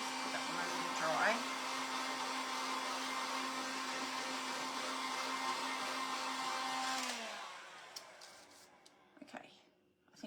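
Hair dryer blowing on damp upcycled Halloween craft pieces, a steady close whir with a brief pitch wobble as it is moved, then switching off and winding down near the end, followed by light handling noises.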